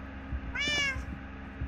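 Cat in Minecraft giving a single clear, rising-falling meow near the middle, close and moderately loud over a low background hum with faint thumping.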